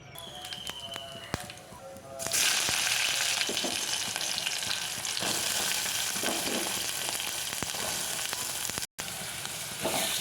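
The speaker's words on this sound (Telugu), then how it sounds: "మొదటగా ఉల్లిగడ్డ పచ్చిమిర్చిని నూనెలో ఫ్రై చేసుకుందాం." Chopped onion and green chilies fry in hot oil, giving a loud, steady sizzle that rises sharply and then runs on continuously, close up, with occasional stirring and no talking.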